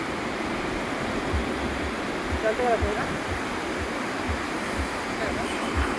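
Sea waves wash steadily onto the beach at Gokarna, a broad continuous surf roar with low rumbling swells, close and fairly loud, with no voices over it.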